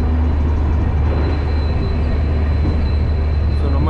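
A passenger train rolls steadily along the Bengaluru to Gokarna line, heard from inside a Vistadome coach as a loud, continuous low rumble and rattle with a faint tonal whine, no voices.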